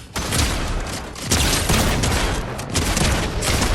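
Rapid shotgun blasts in the console shooter Fortnite, loud and dense bursts of gunfire with booming impacts repeating across the moment, no talking over them.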